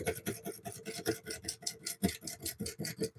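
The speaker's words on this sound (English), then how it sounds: "I'm just going to use this scraper" A woodturning scraper works lightly and slowly across a wooden bowl spinning on a lathe, giving a steady close-up rasping scrape with rhythmic pulses as the uneven surface passes the edge.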